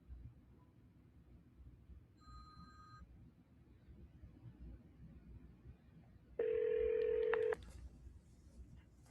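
Outgoing telephone call on a live show's line: a short dual-tone beep near 2 seconds, then a loud steady ringback-style tone for about a second before a brief automated voicemail message, all over faint background hiss.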